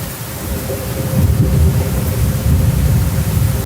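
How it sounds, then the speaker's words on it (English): A deep, sustained rumble of thunder rolls over a dense hiss of rain, loud and continuous throughout, with no voices. "let's add the sound of a thunder in order to make it more dramatic"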